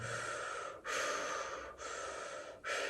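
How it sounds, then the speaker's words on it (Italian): Fast, deep circular breathing, sucking air in: loud, close, rushing breaths run almost continuously, broken by short gaps roughly every second, with no talking. "Adesso aumenta di più la respirazione circolare"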